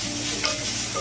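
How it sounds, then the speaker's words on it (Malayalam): Thick, long strips of capsicum are tossed and stirred in a hot pan for dragon chicken. A close, continuous hiss and sizzle runs through the clip with a soft scrape of the spatula. "അത് ഇതുപോലെ ഒന്ന് ഇളക്കിയ ശേഷം"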